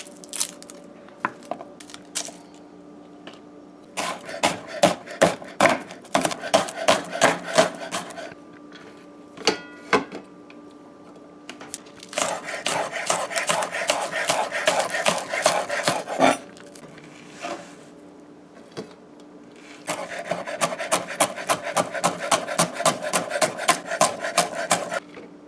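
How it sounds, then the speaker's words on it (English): Rhythmic pounding of garlic and pepper in a mortar for a Guyanese stewed pork, bursts of rapid thuds with gritty crushing, separated by quieter pauses, close and fairly loud. "We're going to pound it in a mortar."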